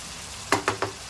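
Three quick sizzling bursts in a pot as pulao masala fries for chicken yakhni pulao, each hiss flaring briefly over a low steady background.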